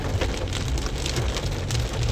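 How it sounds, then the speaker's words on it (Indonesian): Heavy rain falls in Makassar, a dense, steady hiss and patter on surfaces with a low rumble beneath, continuous and fairly loud with no voices. "Yang ngeri kalau udah hujan ditambah angin yang ganas."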